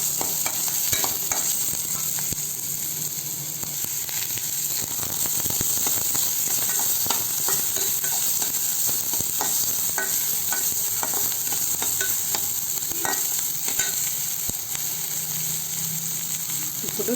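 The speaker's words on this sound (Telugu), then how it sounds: "బాగా వేయించాలి." Green chillies and onions frying in a pan, with a steady loud sizzle and hiss and repeated scraping stirs of a spoon throughout.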